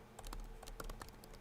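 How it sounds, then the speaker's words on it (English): Keys clatter on a computer keyboard in quick, irregular bursts of close clicks and taps, quiet and alone with no talk over them. "Lots of typing, right?"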